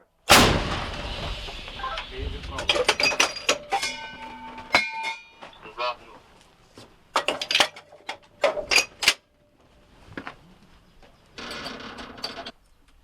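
Repeated heavy booms from an M119 artillery gun, with sharp cracks and ringing metallic echoes, spaced irregularly, loud and outdoors.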